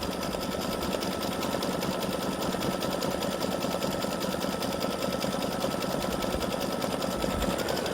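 An embroidery sewing machine runs steadily at high speed doing satin stitching, a dense continuous rapid rattle with no pauses and no talk.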